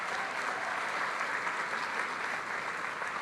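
Steady applause from a sizable crowd, dense continuous clapping at an even level throughout, with no speech over it.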